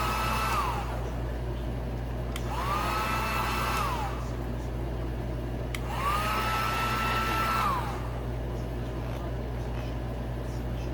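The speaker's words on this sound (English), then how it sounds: "when you start hitting it with the heat gun" A heat gun blows steadily on a vinyl motorcycle graphic kit, a continuous close whirring hiss with a constant low hum, rising in pitch twice as it is pushed harder.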